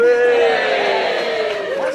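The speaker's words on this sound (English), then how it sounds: "Why does everyone cheer when a new groom says that?" Wedding guests in a reception room break into loud cheering and whooping at the groom's speech, a dense crowd roar that swells and holds for about two seconds.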